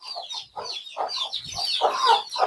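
Hens clucking in quick close bursts alongside their chicks on a small natural-method poultry farm, with each hen and her brood penned separately; the calls come up close and repeat steadily without talk.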